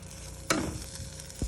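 Beaten eggs for egg bhurji hit a hot pan with a sudden sizzling burst that settles into a steady low fry, followed by a brief scrape, close and quiet.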